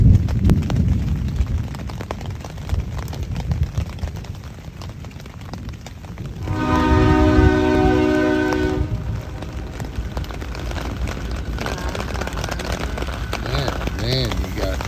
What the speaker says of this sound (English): then you got trains going by